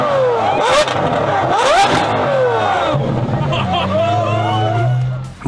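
Naturally aspirated V12 supercar engines rev hard at a Gumball 3000 rally stop in Hungary, with rising and falling engine wails close by over a constant babble of crowd voices.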